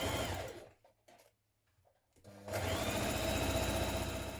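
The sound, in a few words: sewing machine stitching a hem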